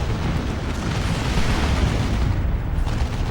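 Stick bombs detonating in a 1v1 video game battle between Chaos Space Marines and Orks, a dense, roaring blast of broadband noise that keeps rumbling for several seconds without any pause.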